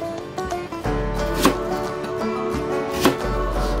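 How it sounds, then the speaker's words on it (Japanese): A knife cuts a Japanese long green onion (naga negi) on the diagonal, with a couple of distinct sharp chops over a steady background hum. "長ネギを適当に切って"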